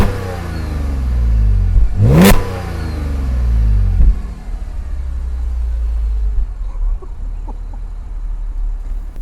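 A 2015 Audi S4 engine revving hard as the car accelerates, a loud rising roar that peaks sharply before settling into a steady cruising drone.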